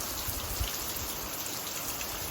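Unseasonal rain keeps pouring over farmland in a dense, continuous patter of drops striking surfaces, with an occasional heavier splash and a thin high tone running through it.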